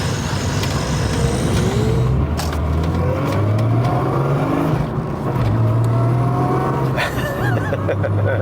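A Jaguar XJR6 car on new Yokohama Advan Neova AD09 tyres drives close by with its engine revving up and down repeatedly, loud and continuous with rising and falling pitch.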